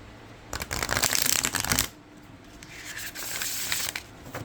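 Tarot cards from a Joyseeker Tarot & Oracle deck riffle-shuffled twice in quick succession, a crisp fluttering rush close by, separated by a brief pause.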